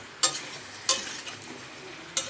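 Pointed gourd fries in a pan, a soft sizzle underneath four sharp scrapes of a utensil stirring at irregular intervals, close and alone without speech.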